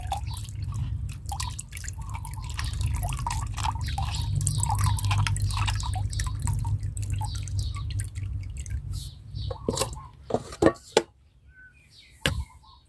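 Water poured over leftover cooked rice and stirred, giving wet sloshing and dripping with a steady low rumble, then a few separate splashes and drips near the end.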